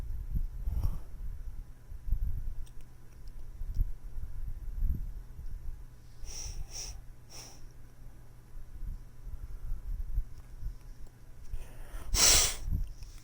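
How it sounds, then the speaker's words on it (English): A person blows their nose in a few short, sharp bursts, with a loud forceful blast near the end, amid quiet sniffs and breathing in a quiet room. "Here's me blowing my nose."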